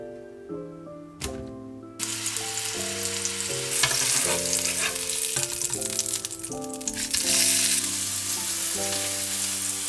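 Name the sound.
burger patty sizzling in a hot pan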